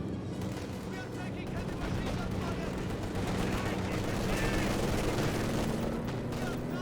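MG42 machine gun fire in the strategy game Company of Heroes 2, sustained rattling bursts mixed with other battlefield shooting, steady and moderately loud across the whole stretch.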